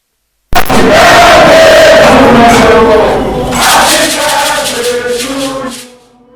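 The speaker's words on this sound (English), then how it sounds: "A round of applause to Mr. President." A large crowd roars and shouts in applause for the President of Ghana meeting the Black Stars, a loud, sustained burst that swells, then gradually fades toward the end.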